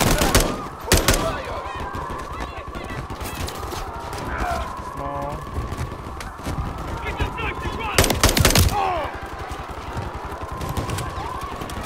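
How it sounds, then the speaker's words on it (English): Bursts of rapid gunfire crack out in the Call of Duty Modern Warfare 3 video game, two heavy volleys standing out against ongoing battle noise, with someone talking throughout. "Oh, he's shooting."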